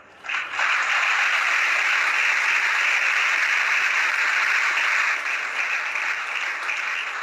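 Sustained applause fills a religious gathering after a guru's question, starting abruptly and holding loud and even for several seconds as many people clap together, easing only slightly near the end.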